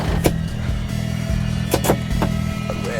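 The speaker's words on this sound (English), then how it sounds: "And the car's just going uphill." A Force Gurkha off-roader climbs uphill on rough terrain with its diff lock engaged, its engine droning in a steady, loud hum with a few sharp knocks and clunks from the drivetrain or body.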